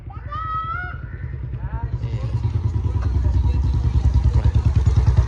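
A motorcycle engine runs up close with a steady, rapid thumping that grows louder and stronger. A brief voice is heard at the start before the engine takes over.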